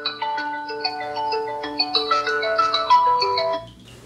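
A polyphonic melodic ringtone plays on a W57 phone, with bright stepping tones in a lively pattern, loud and close, cutting off just before the end.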